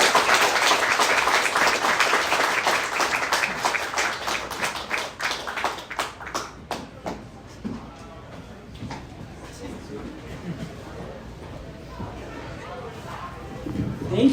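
An audience at a new student reading at the Globe gives loud, dense applause that gradually thins into scattered claps and fades under murmuring chatter and talk.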